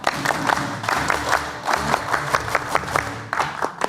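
A group does the Indonesian scout clap (tepuk pramuka) in a rhythmic pattern, sharp bursts in quick sets with brief pauses, loud and close, with some crowd noise underneath.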